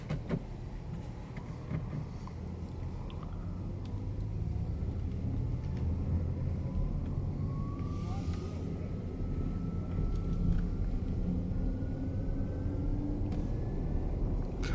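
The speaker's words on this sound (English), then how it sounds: "Let's take this for a quick drive just around the lot so you can see what the vehicle's like." A 2019 Audi e-tron electric car driving slowly around a lot, heard from inside as a steady low road and cabin rumble with a faint rising electric whine, no engine note.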